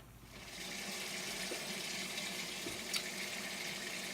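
Cold tap water runs steadily over blanched pasta in a kitchen, making an even, faint rushing flow with a small splash near the end and no voices.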